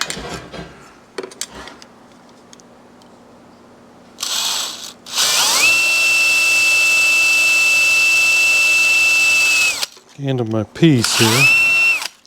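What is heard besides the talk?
drilling a hole in an air box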